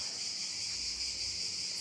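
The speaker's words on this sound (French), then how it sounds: "les Cévennes avec ce bruit de cigales, comme on adore" Cicadas in the Cévennes, a dense, constant high-pitched buzzing chorus that fills the air evenly without a break, with no talking.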